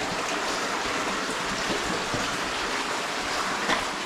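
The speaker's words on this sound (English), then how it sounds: "there's so much water flowing." Water rushes continuously through a low-ceilinged cave stream, a dense steady wash that is close and loud and fills the space without pause.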